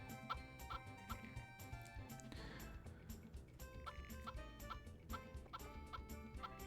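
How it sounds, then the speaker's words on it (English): Chickens clucking and gobbling in a coop in the farming game Harvest Moon 64, repeated short fowl calls over steady game background music, no talking. "I wonder if the chickens like being in the coop all day."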